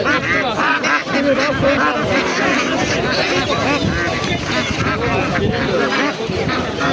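Many ducks quack and honk in a noisy crowd at a poultry market in Sabunchu, Baku, with people talking over the constant din of birds.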